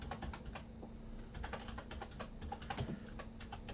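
Rapid clacky typing on a loud computer keyboard, close up, with keys struck in quick irregular bursts and no talking.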